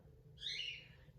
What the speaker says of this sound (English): Sorry about the birds. They decided to sing now.